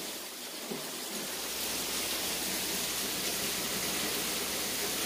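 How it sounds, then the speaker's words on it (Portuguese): Heavy rain pours down in a dense, steady hiss that swells slightly and stays constant throughout, with no voices over it. "tá tão forte a chuva que eu nem sei se vocês vão conseguir me ouvir"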